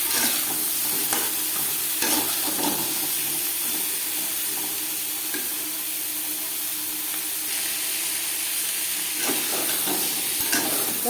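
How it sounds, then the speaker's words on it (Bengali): Sliced pointed gourd (potol) coated with turmeric and salt fries in oil in a pan, giving a steady close sizzle with occasional scraping stirs, no talking. "একটু হালকা করে ভাজা হয়ে গেছে"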